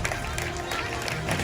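Applause and crowd noise for children receiving gifts at a school end-of-year closing party, a steady wash of clapping blended with voices throughout.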